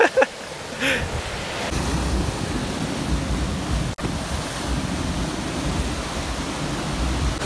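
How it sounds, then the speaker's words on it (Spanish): Ocean waves wash continuously onto a beach in Mazatlán, a loud, steady surf roar with wind buffeting the microphone and a brief dropout midway. "Vean qué gusto está Rogelio. Si no disfrutas el mar como Rogelio, ni vengas a la playa mejor."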